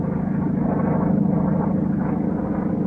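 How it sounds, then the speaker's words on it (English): A steady, droning engine roar from a patrol of aircraft, an English Mosquito bomber escorted by four F-51 fighters near the Yalu River, holding a constant low hum throughout. "5 aircraft, an English Mosquito bomber and 4 escorting F-51s, are patrolling near the Yalu River"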